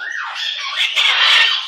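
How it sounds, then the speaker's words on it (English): A baby bird squawks in a continuous, fairly loud high-pitched stream of chirping calls, close by and with no talk over it. "Little baby bird."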